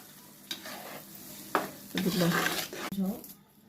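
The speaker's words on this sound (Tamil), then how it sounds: "அரைச்சது எல்லாத்தையுமே இதில் ஊற்றிடலாம்" A wet ground masala paste for crab curry hits a hot pan and sizzles, with bursts of louder frying and stirring scrapes, close up and fairly quiet overall.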